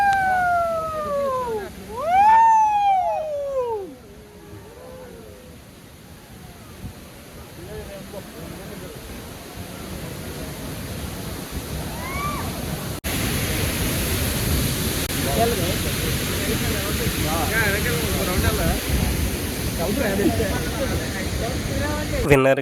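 Chitrakote waterfall in Bastar, Chhattisgarh roars as a broad, constant wash of falling water that swells louder as the camera moves closer, with a few high bird or whistle calls early on.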